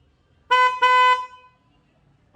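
A vehicle horn wired through a 4-pin horn relay gives two quick loud blasts close together, then falls silent apart from faint background noise and a brief final toot.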